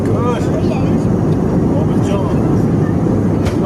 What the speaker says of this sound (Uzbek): Mana Nukodan Namangan uchgan samolyot.